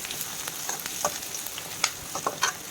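Onions, green chillies and cumin frying in oil in a pan, a close bright sizzle with irregular crackling pops and scraping stirs, no voice over it.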